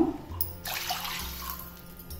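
Water poured from a cup onto washed rice in a pot for cooking, a steady splashing gush lasting about two seconds, close and fairly loud with no talking.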